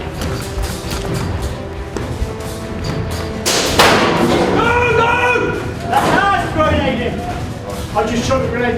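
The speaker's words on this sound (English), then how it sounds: "I just shot a grenade through the top window." An airsoft grenade is fired through an upper window during an outdoor skirmish game, landing as a single loud thud midway through, amid shouting players and busy background activity.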